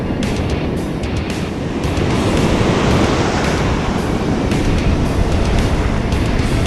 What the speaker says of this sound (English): You will see right at the back the waves are breaking.